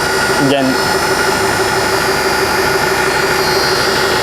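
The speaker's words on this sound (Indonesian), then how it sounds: "Putarkan tombol genset" A generator set engine on a mobile water treatment unit runs at a steady, loud drone with a brief knock near the start, continuing evenly throughout.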